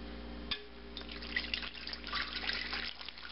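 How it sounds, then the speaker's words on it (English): Water pours into a bread machine pan, a soft continuous trickling and splashing that starts abruptly, quiet and close, with no talking. "I'm going to add water first, 242 grams of water."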